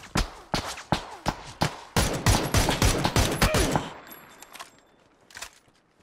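Rapid bursts of automatic gunfire in PUBG, loud and close, firing in quick repeated volleys before trailing off into quieter shots near the end.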